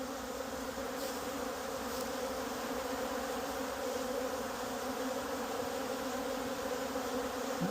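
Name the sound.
honey bees buzzing around hive, possible robbing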